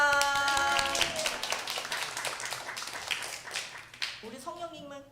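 A church congregation claps together, a dense, moderately loud patter of many hands that fades toward the end as a voice returns.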